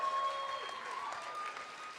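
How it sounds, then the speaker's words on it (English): An audience at a cosplay contest masquerade applauds the winners, a faint, steady patter of clapping heard at a distance, with a thin tonal hum running beneath it. "And a round of applause."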